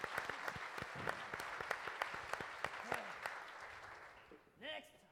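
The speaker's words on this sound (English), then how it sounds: "So please, one more time, a round of applause for the Theater of Public Policy." Faint applause from the audience at a walking summit's closing plenary for the Theater of Public Policy, with scattered distinct claps over a soft wash, fading out near the end as a voice briefly comes in.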